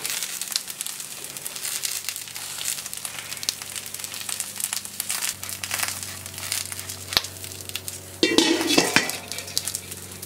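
Sweet Landes peppers sizzle on an oiled plancha, a steady frying hiss running throughout with occasional utensil clinks and a louder burst of crackling near the end.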